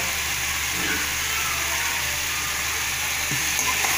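Cut pumpkin pieces fry in a pan with onion, turmeric and salt, making a constant dense sizzle that stays even and close throughout, with a faint low hum underneath.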